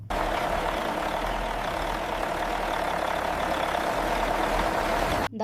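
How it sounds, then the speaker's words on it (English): Restored cargo shipping loader machine's diesel engine running smooth and strong, a loud, steady close-up rumble with an even mechanical drone throughout and no voices. "The engine runs smooth and strong again."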